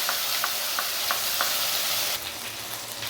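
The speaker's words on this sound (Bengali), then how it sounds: "তেজপাতা ফোড়ন দিলাম। এটার মধ্যে পেঁয়াজ, আদা, রসুন, কাঁচা লঙ্কা বেটে রেখেছি, সেটা আমরা দিয়ে দেবো" Onion, ginger, garlic and green chilli paste frying in hot oil with a bay leaf, a dense steady sizzle close up with faint stirring taps, dropping slightly in loudness near the end.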